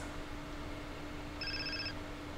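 A phone rings in the video game GTA San Andreas: a short, fairly faint electronic trill midway through, over a steady background hum, with no voices.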